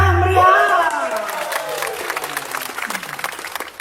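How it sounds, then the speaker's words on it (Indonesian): A loud crowd at a prize announcement for a winning guest claps and cheers, with whoops rising over steady applause after a brief tonal sting at the start. "Tepuk tangannya mana? Meriah."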